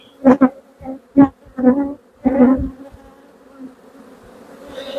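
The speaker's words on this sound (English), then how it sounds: "So if you want bees to move, just wiggle the hive tool on the backs and they'll budge." Honey bees in an open hive buzz loudly in close bursts as a hive tool wiggles them aside, several rising drones over the first seconds, then a quieter lingering hum.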